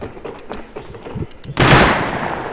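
Gunfire in the survival game Rust during a base raid, scattered distant shots followed by a loud sustained burst of rapid automatic fire up close.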